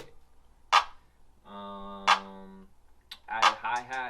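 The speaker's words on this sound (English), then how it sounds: "I started out with this clap." A sharp, punchy clap sample from a drum kit hits three times at a steady, spaced interval, with a sustained tonal note between the claps.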